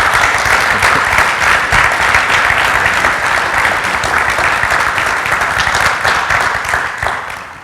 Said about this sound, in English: I'd like to give one more round of applause to our panelists for taking the time to be here